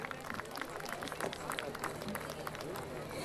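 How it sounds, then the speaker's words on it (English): A fairly distant audience claps at a school annual day event. The rapid, crowded clapping is accompanied by a faint murmur of crowd babble underneath. "A big round of applause for sir,"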